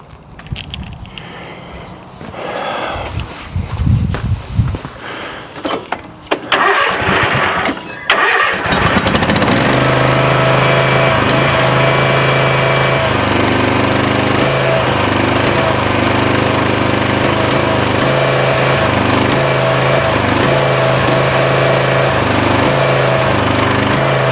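A small garden engine is pulled and cranked with a few rough rattles and sputters, then catches and runs steadily at close range, loud and droning for the rest of the clip.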